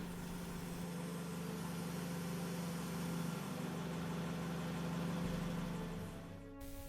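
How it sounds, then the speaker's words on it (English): Forklift engine idling steadily during a pre-operation inspection while the mast raises and lowers the forks, a constant low hum with a slight shift in tone near the end. "check the mast movement by pulling the lift lever to fully raise and lower the forks"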